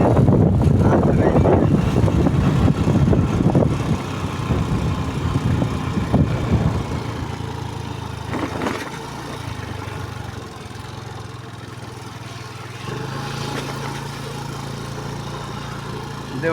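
A vehicle drives over river sand with a steady droning engine, rougher and louder at first and then settling into a smoother hum, with wind buffeting the microphone throughout.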